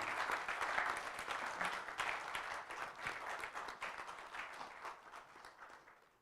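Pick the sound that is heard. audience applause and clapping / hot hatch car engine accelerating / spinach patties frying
audience applause and clapping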